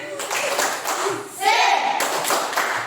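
Classroom of pupils standing and doing rhythmic spirit clapping, quick patterned claps interspersed with children's chanting voices, close and moderately loud.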